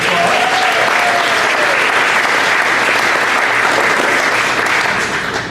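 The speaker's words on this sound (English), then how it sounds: "Let's give Pastor Kyle a big applause." An audience gives a pastor a big round of applause, steady, loud clapping from a large crowd that holds for several seconds before starting to fade.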